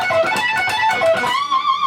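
Electric guitar plays a fast, sped-up flutter lick from a song, with rapid repeated picked notes that end in a sustained bend, loud and close, without any voices.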